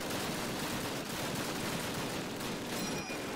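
Dense, continuous gunfire in a Call of Duty campaign battle, loud and close, a steady roar of overlapping shots with no pauses.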